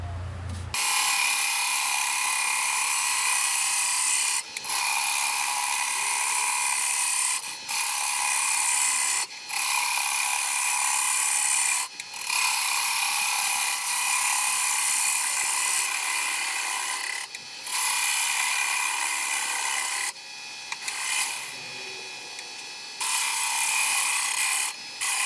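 Mesquite wood bowl being turned on a lathe, a loud steady high-pitched hiss of the tool cutting and throwing hot shavings, running continuously with brief pauses as the cut lifts off.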